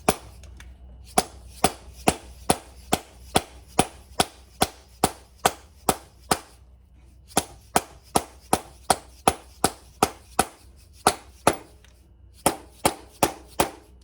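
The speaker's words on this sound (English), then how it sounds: "Hitting it with a dead pull hammer to seat it." A steady series of sharp, hard dead blow hammer strikes seating a CV axle on a Nissan Rogue, about two per second, with a short pause midway before the pounding resumes.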